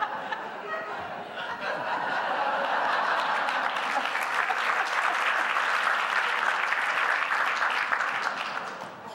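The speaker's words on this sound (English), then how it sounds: "let's give Donna another round of applause" A crowd at a Center for Social Policy 20th anniversary celebration applauds Donna, the clapping swelling into a loud, dense roar with some laughter mixed in before tapering slightly at the end.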